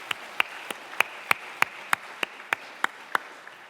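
Slow, evenly spaced group claps at a Sunday worship service, about a dozen crisp beats in a steady rhythm, fairly close and clear with little else around them.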